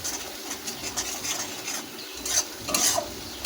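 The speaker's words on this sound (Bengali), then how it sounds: "আর কোনো কিছু মশলা লাগবে না এটাকে একটু নাড়িয়ে নেব" A spoon stirs spice paste frying in oil on a low flame for a hilsa curry, giving a soft continuous sizzle with repeated scraping strokes, close by and with no talking.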